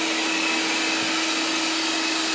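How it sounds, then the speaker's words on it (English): A robot vacuum cleaner runs steadily indoors, giving off a continuous broadband whir with a faint steady tone through it, close and alone with no voices. "why are we watching your vacuum cleaner?"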